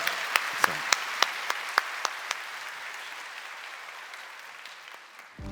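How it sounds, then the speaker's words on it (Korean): A church congregation at a Sunday worship service gives a round of blessing applause after a prayer, starting with a few crisp, separate claps that merge into a soft, fading wash of clapping before a voice speaks. "우리 다시 한번 축복의 박수 해주시기 바랍니다"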